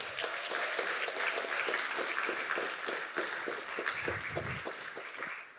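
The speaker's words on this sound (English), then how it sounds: "Give yourselves a huge round of applause" Audience at a live-streamed community event breaks into sustained applause, a dense steady patter of many hands clapping at once that tapers slightly near the end.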